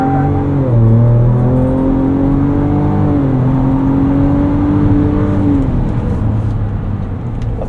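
A tuned 2024 Ford Ranger Raptor with a Ford Performance tune adding 50 hp accelerates at wide open throttle, giving a loud, continuous engine drone that climbs in pitch through shifts and then eases off.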